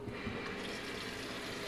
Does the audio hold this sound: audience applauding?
no